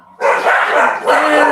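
A single close, loud dog bark rises abruptly and holds briefly with a second push near the end, heard alone in a quiet room.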